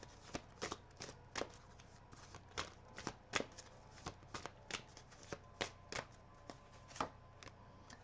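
Tarot cards are shuffled by hand close up, a quiet run of quick riffling flicks repeating at an irregular rhythm for several seconds, with no talking.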